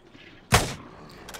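A single sharp gunshot fired at a spider mutant in the survival video game Miscreated, one loud broadband crack that decays quickly into quiet background.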